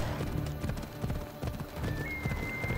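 Horse galloping in the video game Assassin's Creed Odyssey, a steady rapid clip-clop of hooves close by with a brief whinny-like tone, game ambience underneath.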